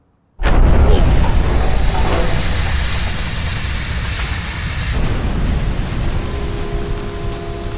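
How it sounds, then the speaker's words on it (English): An explosion from the 2016 film Shin Godzilla, set on an abandoned boat in Tokyo Bay, hits with a sudden loud blast and then rolls on as a long, dense roaring rumble that shifts in tone midway and stays heavy to the end. "soldiers investigate an abandoned boat floating around in Tokyo Bay when an explosion occurs."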